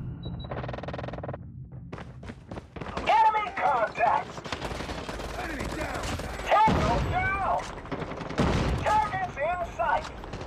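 MAC-10 submachine gun fire in the mobile shooter Call of Duty Mobile, sounding as repeated rapid bursts mixed with other game effects and a talking voice.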